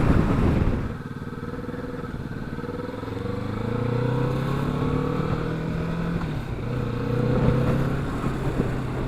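A Kawasaki Vulcan S motorcycle fitted with a new Puig windscreen rides along, its engine rising and falling in pitch through gear changes with steady wind rush, close and fairly loud.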